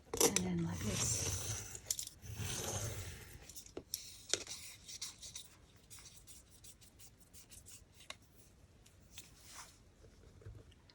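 Scissors cut through paper to shape beads, giving a few crisp snips and rustles up close early on, then fainter scattered clicks and paper handling over a low background.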